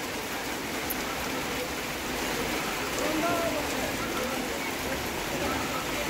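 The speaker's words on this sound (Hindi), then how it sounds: "झमाझम बारिश" Heavy monsoon rain after hot sunshine, heard as a steady, dense hiss of downpour that stays constant throughout, with a faint voice briefly in the background.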